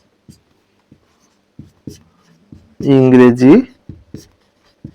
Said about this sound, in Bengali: তিনটা বিষয় লিখলাম